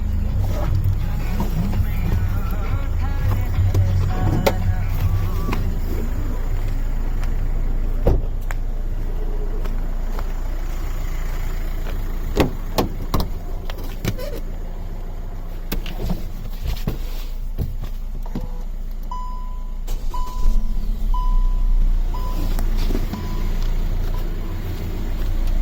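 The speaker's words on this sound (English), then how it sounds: "Let's hear both the car's engine." Hyundai Creta 1.4 and 1.6 engines idle in turn, a steady low rumble with scattered clicks and knocks from the cars throughout.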